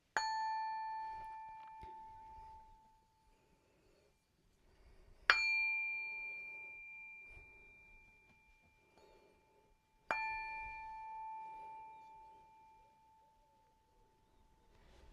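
A singing bowl is struck three times at even intervals, each strike ringing out clearly with a long, shimmering sustain that slowly fades, alone in a quiet room.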